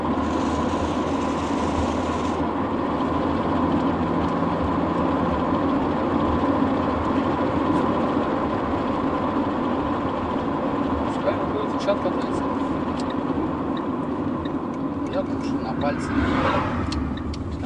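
A steady engine drone runs throughout with a constant low rumble, with people talking over it nearby.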